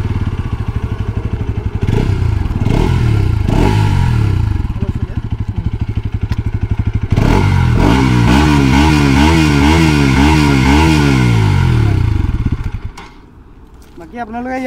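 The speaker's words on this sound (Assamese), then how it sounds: "এতিয়া লাষ্ট ইয়াৰ এক্সাস্ট সাউন্ডটো শুনাই আছো" A 2024 Bajaj Pulsar NS200 motorcycle idles with a steady, close exhaust rumble. It is revved hard several times, rising and falling, before dropping back toward idle near the end.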